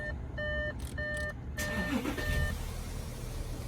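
An Audi Q7 TDI's electronic warning chime beeps in short repeated bursts, close by, over a low idling diesel engine rumble, then stops as the engine continues.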